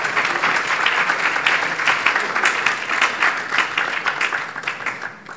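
Sustained audience applause at a capital market seminar in Takoradi, dense clapping that holds steady, then tapers off toward the end.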